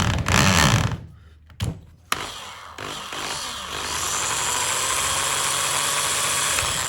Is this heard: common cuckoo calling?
no